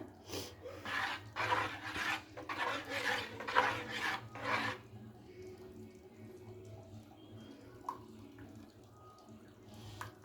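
A spoon stirring a thin milk batter for patishapta, a run of rhythmic scraping strokes for several seconds, then the bowl falls quiet apart from a faint clink or two.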